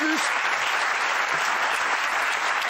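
A TV studio audience on a French talk show applauds, dense and loud continuous clapping filling the whole stretch without a break, a brief low voice fragment at the very start.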